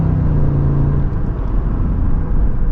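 A 2023 Cadillac Escalade with a 10-speed transmission downshifts while driving, heard from inside as a loud steady engine and road rumble with a brief tonal whine that fades as the gear changes.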